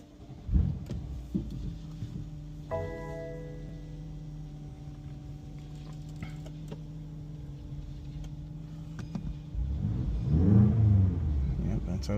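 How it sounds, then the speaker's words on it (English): BMW X6M (F85/F86) with a Valvetronic Designs valved sport exhaust, valves open, heard from inside the car during a cold start. A steady low rumble holds for several seconds, then swells into a louder surge of revving near the end. "We have exhaust open. Let's see what the cold start sounds like."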